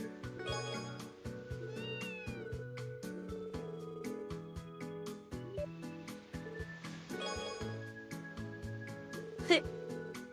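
Cat meows from the video game Trails to Azure, heard over layered game music with tonal chimes and steady beats; the meows are brief and sit within the music.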